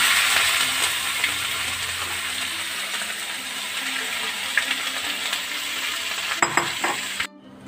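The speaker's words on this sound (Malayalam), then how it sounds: "നമുക്ക് ഇതിലേക്ക് ഇഞ്ചിയും പച്ചമുളകൊക്കെ ഇട്ട് കൊടുക്കാം. എന്നിട്ട് ഫ്രൈ ചെയ്തിട്ട് എടുക്കാം." Ginger and green chillies frying in hot oil for a Kerala puli inji, a steady close sizzle with occasional stirring scrapes and clinks, heard alone without talk.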